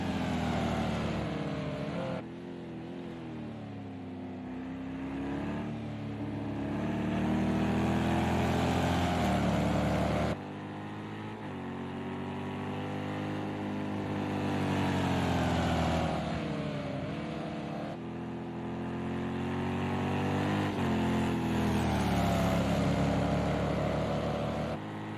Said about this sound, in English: Corvette, BMW, then 2 Porsches and a Ferrari here at Le Mans.